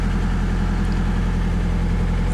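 The engine of a 1995 Nissan 240SX built as a borderline race car idles at around 1100 rpm, a steady, close, loud low throb with an even pulsing rhythm and no voices.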